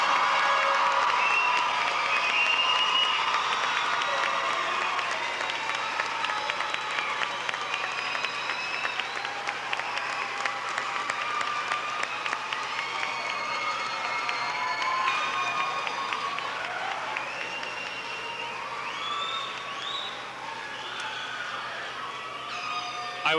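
A large crowd at a high school graduation ceremony applauds at length with scattered cheers and whoops mixed in, the clapping sustained and gradually thinning.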